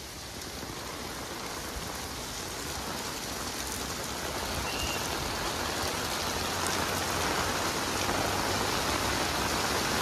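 Heavy rain pours down in a steady, dense hiss that fills the space evenly from start to finish, with no voices.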